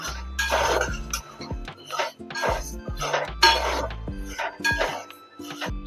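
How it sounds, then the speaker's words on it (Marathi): Sago pearls are dry-roasted in a thick-bottomed kadai, producing rhythmic bursts of rattling and scraping as a spoon stirs them, with metallic clinks against the pan, close and without speech. "इथं मस्त मी एक जाड बुंदाची कढई घेतली आहे त्यावर आता आपल्याला साबदाणे मस्त असे खरपूस भाजून घ्यायचे"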